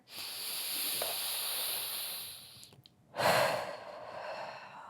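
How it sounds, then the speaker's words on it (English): Deep breaths while lying and stretching before an ab and core workout: a long, loud, close inhale-like hiss, a brief pause, then a second strong breath that slowly fades, no talk. "Take a few deep breaths here."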